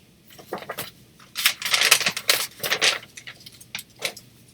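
Paper from a craft paper pack is handled for a pink Christmas-themed handmade journal, producing irregular close crinkling bursts with brief pauses between them.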